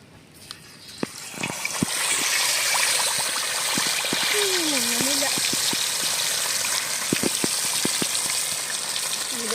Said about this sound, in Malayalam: നമുക്ക് മീനിട്ട് കൊടുക്കാം കേട്ടാ എണ്ണ ചൂടായിട്ടുണ്ട്